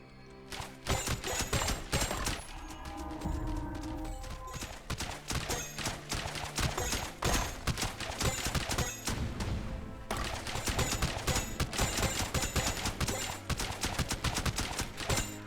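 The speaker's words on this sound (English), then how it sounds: "See the bombs drop." In a tower defense video game, bombs drop and explode in a dense, continuous barrage of rapid cracks and booms layered over game music, loud and busy throughout without speech.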